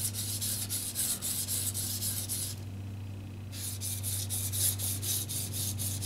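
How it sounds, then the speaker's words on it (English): A Tojiro kitchen knife is thinned on a sharpening stone with steady rhythmic rasping strokes, loud and close, broken by a short pause before the scraping resumes over a low steady hum. "Thinning, thinning, thinning. Not even sharpening the knife yet."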